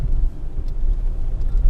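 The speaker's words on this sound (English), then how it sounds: "This reminds me of the 4-litre Toyota Prado engine, the V6. It's got a similar purr." A V6 Suzuki Grand Vitara engine purrs on sand, a low steady rumble with slight fluctuations, close and fairly loud, with wind buffeting the microphone and no voices.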